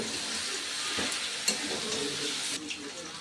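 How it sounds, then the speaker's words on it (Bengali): Cabbage mixed with ginger paste and coriander leaves sizzles and fries in a pan, a dense hiss broken by a few scraping stirs and a brief clatter, with no voices. "আদা বাটা আর তার সাথে ধনে পাতা দিয়ে একসাথে ভালো করে বাঁধাকপিটাকে মিশিয়ে নিচ্ছি"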